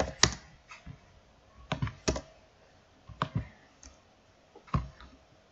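Keys tapped on a computer keyboard while a folder name is entered, irregular bursts of clicks in short clusters, close and fairly quiet, with no talking.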